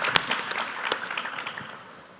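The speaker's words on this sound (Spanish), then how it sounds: "Un aplauso, por favor" A panel audience at an infrastructure conference applauds, a burst of scattered clapping that starts sharply and gradually thins and fades over about two seconds, no talking.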